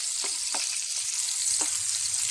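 Capsicum sautéing in hot oil with a pinch of salt, a constant bright sizzle with a few soft stirring scrapes, close and steady, no talking.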